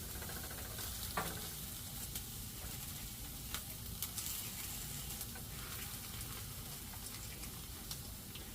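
Bologna frying in butter in a cast iron skillet makes a quiet, steady sizzle with small pops and spatters throughout, heard alone and close.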